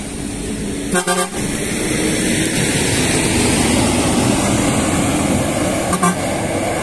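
A West Sumatra intercity bus on the central Sumatra highway passes with steady road roar, its horn sounding in two short tooting bursts, near the start and again briefly toward the end, no talking.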